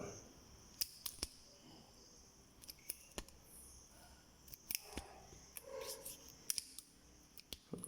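Sharp, close snips of a cutting tool going through a small plastic Lego piece during a Samsung washing machine repair, a dozen or so crisp clicks at irregular intervals in a quiet room.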